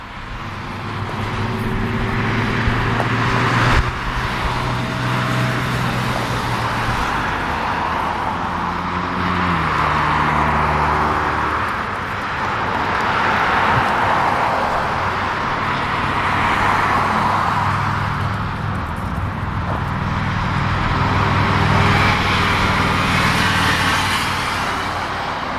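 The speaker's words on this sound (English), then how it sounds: "yeah, you should be hearing car sounds on your right side." Cars and trucks passing on a nearby road beside a cemetery, a continuous swelling and fading rush of traffic with engine hum, moderately loud and steady, no talking.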